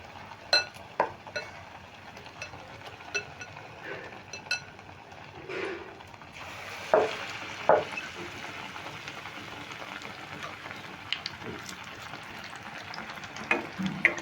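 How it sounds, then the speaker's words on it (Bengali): Potato chops in batter frying in hot oil over a medium gas flame, a steady soft sizzle with scattered pops and crackles that swells into a fuller hiss partway through. "দিয়ে দিচ্ছি তেলে গ্যাসের ফ্লেমটা আমি মিডিয়াম করে নিয়েছি"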